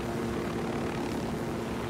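A steady helicopter drone in the video game Ghost Recon Wildlands, with a low, throbbing rotor hum, continuous and fairly loud, without any speech.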